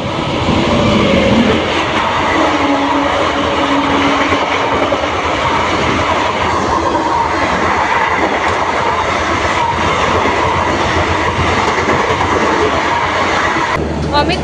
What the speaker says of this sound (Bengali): আর এখন একটা থ্রু ট্রেন বার হবে।